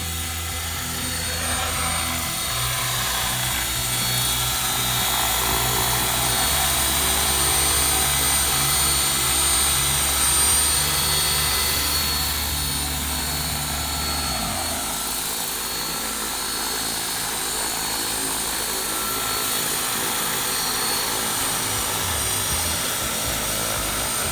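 A remote-controlled model helicopter flies for the whole stretch, a steady loud whine and buzzing rotor drone with shifting pitch as it maneuvers, no talking.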